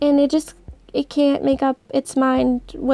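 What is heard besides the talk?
No distinct noise like a dog, phone or traffic.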